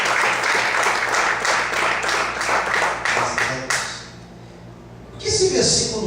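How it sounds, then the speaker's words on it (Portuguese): A congregation claps during a church service, a dense burst of applause that fades after a few seconds and gives way to a quieter room and brief voices. "Você pode aplaudir o Senhor."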